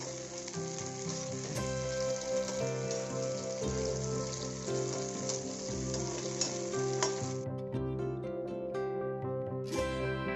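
Onion and chopped tomato frying in a pan for radish egg bhurji, a dense continuous sizzle with stirring, fairly quiet and steady, with a faint background hum and no voices.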